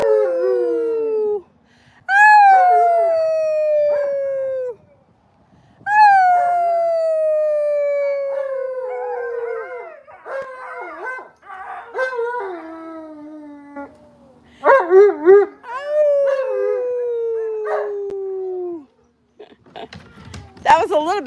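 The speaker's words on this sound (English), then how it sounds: "Oh, the husky puppy's howling." A husky puppy howls outdoors in long, sliding, high-pitched cries, loud and close. The howls come in several drawn-out bursts with short gaps between them, and one final quiet pause.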